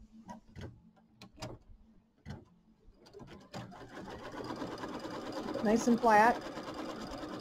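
A sewing machine tacks down quilt fabric on a Kimberbell mini quilt, its rapid mechanical stitching chatter starting after a few taps and building to a steady close run, with someone speaking briefly.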